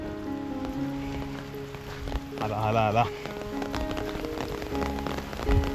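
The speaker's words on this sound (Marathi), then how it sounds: "आवाज करत येतो सोसाट्याचा वारा आणि पाऊस" Heavy monsoon rain sweeps in with gusting wind over a Konkan village, a steady dense hiss of rainfall filling the scene while a man calls out excitedly over it.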